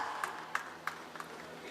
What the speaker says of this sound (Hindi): आपके बिना क्या हम विनर्स के लिए तालियां बजा सकते हैं?